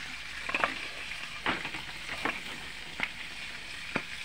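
Food sizzles steadily in a hot pan while a spoon scrapes and stirs through it in several distinct, fairly evenly spaced strokes, with the large pieces still raw; no voices.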